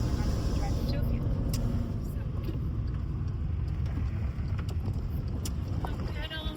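A car driving along on the way to a field, steady low engine and road rumble with wind buffeting the microphone throughout, while people talk over it.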